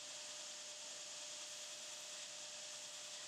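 A 2x72 belt grinder with a coarse 36-grit belt sands the edge of a cherry burl hybrid-scale knife handle over a flat platen. The grinding rasp is loud and steady, with no pause, for the whole stretch.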